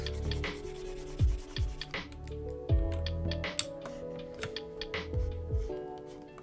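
An eraser rubs across paper in short scrubbing strokes, close and soft, with a few keyboard-like clicks between them.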